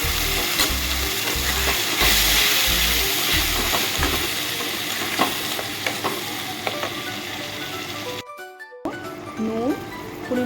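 Spice paste for an egg and potato curry fries in a hot pan with steady crackling sizzle and occasional stirring scrapes, a brief dropout near the end, with a person speaking intermittently over it.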